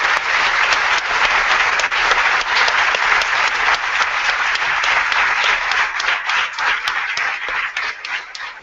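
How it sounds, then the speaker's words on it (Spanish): Sustained, loud applause from an audience at a Universidad de Palermo event, a dense steady wash of many hands clapping throughout with no break, with no speech over it. "Despedimos entonces con un fuerte aplauso a Kevin."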